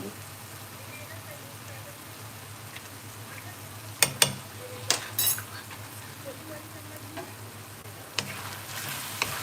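Soyabean masala pasta dressed with vinegar is stirred in a pan, giving a soft, quiet sizzle punctuated by a few sharp clinks of a utensil against the pan.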